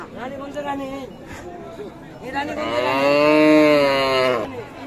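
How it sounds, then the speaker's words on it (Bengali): A Friesian cow at the Raniganj cattle market gives two long, loud moos, the second rising and fuller, with faint crowd babble behind. "রানীগঞ্জ হাটের রানী গরু।"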